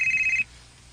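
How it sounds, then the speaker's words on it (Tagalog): A cellphone rings with one bright electronic tone for about half a second, then cuts off and leaves a quiet room. "Ang akong cellphone."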